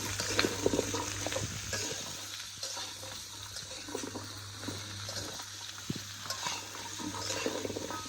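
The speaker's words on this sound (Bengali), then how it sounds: "প্রথমে আগে মিষ্টি কুমড়াটা ভাজি করতেছি" Sweet pumpkin frying with onion and garlic over a clay stove gives a steady, soft sizzle with occasional stirring scrapes and clicks, continuous and fairly close, with no talking.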